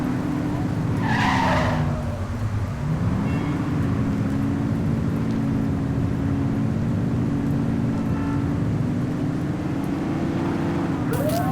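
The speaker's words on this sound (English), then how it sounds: "Speeders are out in force today." Speeding cars in a police patrol video game on Xbox, a steady loud engine drone under a brief tire skid and a passing whoosh, continuous throughout.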